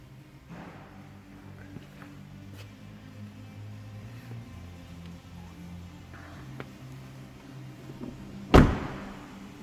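A Ford Mondeo ST-Line X car door shuts with a single solid thud near the end, after quiet rustling and faint background noise.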